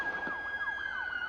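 A police siren wails, sweeping rapidly up and down in a fast yelp pattern, steady and fairly loud, with a high constant tone running alongside.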